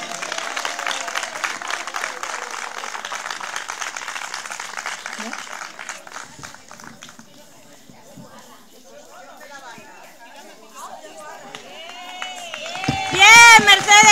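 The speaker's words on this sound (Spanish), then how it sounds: "Un aplauso." People at a Women's Day village celebration clap for the maid of honour, a brisk burst of applause that thins out and fades to near quiet before voices and a loud shout rise at the end.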